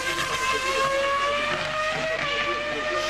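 Formula One race cars at the 2002 European Grand Prix warm-up, a loud, steady high-pitched engine whine held at high revs with a slowly shifting pitch, continuous throughout.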